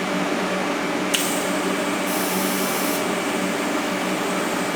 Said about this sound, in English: Time to weld them up, baby. I love TIG welding.